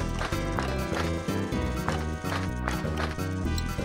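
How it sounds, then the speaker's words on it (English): Horse in a PS1 game, Euro Demo 99, with regular clip-clop hoofbeats under a steady, loud musical backing throughout. "Horsey again."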